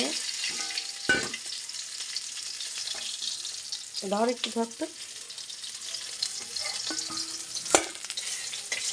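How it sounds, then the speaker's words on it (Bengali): Pieces of fish sizzle steadily in a hot pan of oil at home, with a sharp clang of utensils near the start and brief speech partway through. "এই যে মাছ ভাজা বসিয়ে দিয়েছি"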